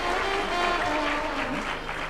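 The audience at a Ram Katha claps together, a broad wash of handclaps that holds steady at moderate loudness, with faint tonal sounds from the hall beneath it.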